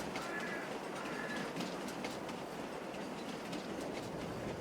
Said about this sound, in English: Here we have the opportunity of going ahead and seeing that custom train go by here.